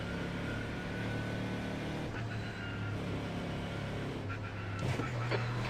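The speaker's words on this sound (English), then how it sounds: "I can feel the engine noise and vibration of the car." A steady, droning race car engine in a racing video game hums at a constant low pitch, with a brief rise in revs near the end.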